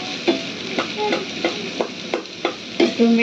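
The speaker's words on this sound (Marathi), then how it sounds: "हे आपण आता अर्धवट शिजून घेऊया तेलामध्ये होऊ दिले।" Onion, capsicum and spring onion frying in oil for chicken chilli, a steady close sizzle with regular scraping stirs of a spatula roughly every half second, no voices.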